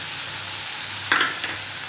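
Drumstick leaves sauté in a hot pan for adai dosa batter, giving a steady, close sizzle with a brief scraping stir midway and no talking.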